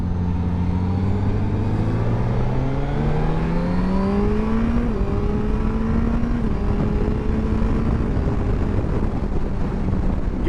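2023 Suzuki GSX-S1000GT motorcycle accelerating hard, engine pitch climbing through the gears with a brief dip at a shift, heard from the rider's position under heavy steady wind roar.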